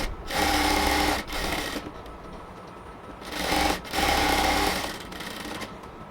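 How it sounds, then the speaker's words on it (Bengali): Electric sewing machine stitching the waist of a ladies' salwar pant, running in two long loud bursts with brief pauses and fabric shifts between them, close and without speech. "এবার আমরা সালোয়ারের অপর পাশে, কোমরের অপর পাশে এবার আমরা সেলাই করে নেব।"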